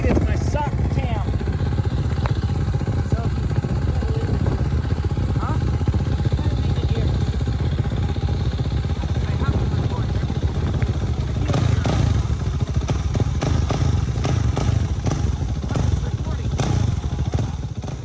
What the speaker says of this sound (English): let's go ride some motorcycles.